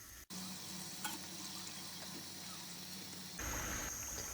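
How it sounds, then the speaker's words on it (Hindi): Potato samosas deep-frying in hot oil over medium heat, giving a steady close sizzle and bubbling that grows louder and brighter near the end, with no talking. "मीडियम आंच पर हम समोसों को फ्राई करेंगे।"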